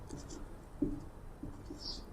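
Handwriting on a surface, with close soft scratching strokes and a few sharper taps of the pen, set against a faint background.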